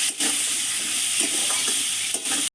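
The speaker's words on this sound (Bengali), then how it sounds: "দিয়ে আমি কুমড়োটা ভাজা ভাজা করে নেবো।" Pumpkin frying and being stirred with salt and turmeric in a pan, a steady loud sizzle with a few scraping stir strokes, close and without talk.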